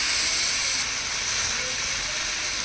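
Tamarind water poured into hot mustard oil with mustard seeds and two dried red chillies in a pan, giving a steady, close, hissing sizzle that runs the whole time, brightest at the start and then settling.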